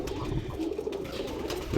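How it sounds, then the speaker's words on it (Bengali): Many white pigeons on a farm coo softly in a low, continuous murmur, fairly faint and without any voices over it. "দেখেন এখানে অনেকগুলো কবুতর"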